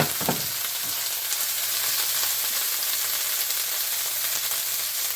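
Demi-glace simmering and sizzling in a pan over high heat, a steady dense crackle of frying with a faint low hum underneath, continuous and close, with no voices.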